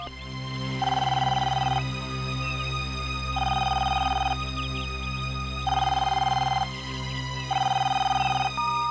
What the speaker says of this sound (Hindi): एक मिनट, मैं मैम को फोन मिलाता हूँ, शायद वो आराम कर रही हूँ।